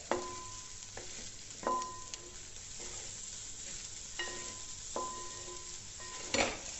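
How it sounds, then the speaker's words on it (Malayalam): Rice being stirred and turned over in a pan while it fries, with soft scraping and clinks of the spoon against the pan over a faint, steady sizzle. "അടിയിൽ നിന്ന് കൂട്ടി തിരിച്ചും മറിച്ചും ഇളക്കി യോജിപ്പിക്കുക."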